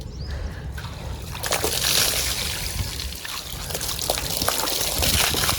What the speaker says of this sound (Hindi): ठंडे ठंडे पानी से नहाना चाहिए